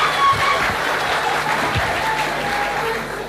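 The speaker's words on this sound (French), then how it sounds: "On applaudit très fort." Loud, dense applause from a school audience at a college talent show in Yaoundé, a continuous roar of many hands clapping together without a break.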